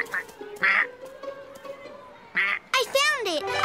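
A cartoon duck in an animated children's show quacks several times in short nasal bursts, close and fairly loud, with a drawn-out wavering call near the end.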